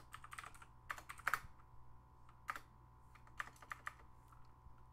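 Irregular keystrokes tapped on a computer keyboard while entering a software install command, quiet and close over a steady low hum, with short bursts and pauses between keys.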